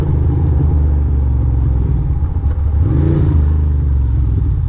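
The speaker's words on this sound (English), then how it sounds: "And the bike is backfiring." Ducati motorcycle engine running loud and steady close by, with a rising rev swell midway and rough, uneven firing suggesting backfire pops; no voices.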